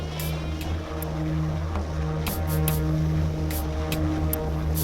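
A rescue helicopter hovers over ice during a stormy sea rescue, its steady droning engine and rotor hum loud and continuous, with faint rhythmic blade thumps running through it.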